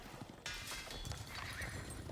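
Horse neighing mixed with clattering hooves from cavalry units in the Age of Empires IV video game, a faint, busy game soundscape with no clear speech.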